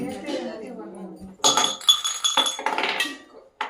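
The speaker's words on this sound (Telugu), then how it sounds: "గ్లాస్ రెండే పడుతుంది గ్లాస్" Glasses clatter and clink as they fall during a kitty party game, giving sharp bright chinks in a quick cluster while people talk and laugh nearby.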